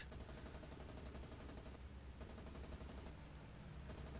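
Machine guns on a Wildcat fighter plane firing during a dogfight in War on the Sea, rapid rattling bursts that pause briefly and resume, heard fairly faint and without speech.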